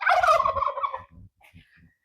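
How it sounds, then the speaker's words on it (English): Several farmyard chickens and roosters call close by in a loud, gobbling burst of clucks lasting about a second, followed by a few soft low thumps and faint scattered squawks. "Oh, there's a couple of roosters over there."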